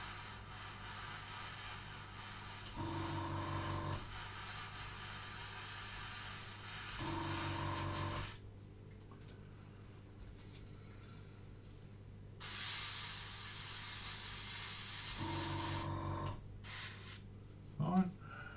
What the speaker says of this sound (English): I wouldn't normally use this airbrush because it's the cheaper one I got, but does seem to be working.